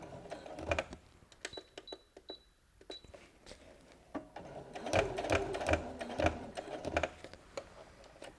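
A home sewing machine top stitches a fabric picnic tote, running in bursts of rapid mechanical clatter with brief pauses between, close and moderately loud.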